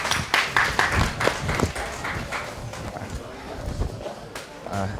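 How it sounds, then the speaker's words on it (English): Attendees at a small business tax workshop giving a short round of applause, scattered sharp claps that thin out over a few seconds, with a voice and some shuffling noise nearby. "please give Mr. Kamil Salters a round of applause"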